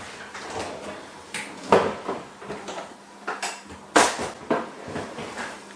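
Metal spoon pulled from a kitchen drawer before plating eggs Benedict: a cluster of clinks and clatters, two sharper knocks standing out among lighter rattles and drawer sounds, close by with no talking.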